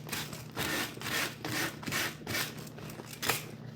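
A painted wooden table is distressed by rubbing, giving rhythmic scraping strokes in a repeated back-and-forth pattern at close range, with no speech.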